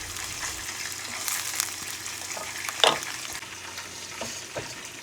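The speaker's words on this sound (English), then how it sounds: "We add our tomato puree to start it." Tomato puree is poured into browned minced onion frying in a pan for spaghetti sauce, producing a steady, close sizzle with a brief louder splash and a few light scrapes of stirring.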